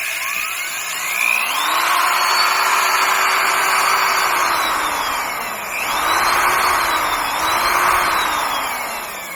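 The electric motor of a drywall sprayer hums and whines steadily up close, its pitch sliding up and down gently as the speed shifts at low settings.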